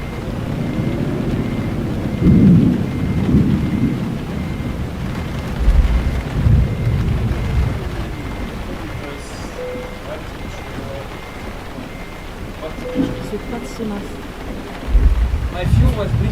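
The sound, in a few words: heavy rain pouring on a car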